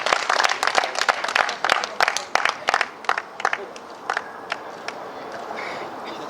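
Audience applause at a volleyball charity tournament award ceremony: dense, lively clapping that thins out into scattered, separate claps toward the end.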